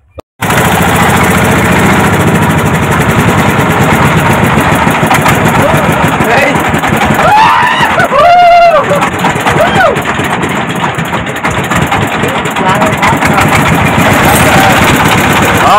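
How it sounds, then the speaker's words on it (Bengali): A motorboat engine runs steadily and loudly from start to finish as the boat gets under way on the trip to White Rock at Bholaganj, Sylhet, with people talking over the continuous drone. "নৌকা কিন্তু ফাইনালি চলতে শুরু করলো, আর সামনের দিকে অগ্রসর হচ্ছি"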